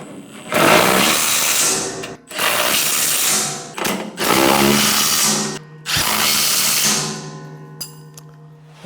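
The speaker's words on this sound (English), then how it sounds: "we move to the left side of the blower and tighten the 4 1/2-inch bolts that we had loosened earlier" A power tool or ratchet runs loudly in four long bursts with short pauses between them, tightening the 4 1/2-inch bolts on the left side of a blower.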